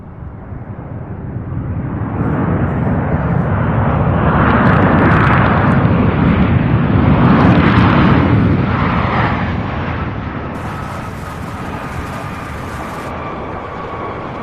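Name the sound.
American Airlines Boeing 737-800 jet landing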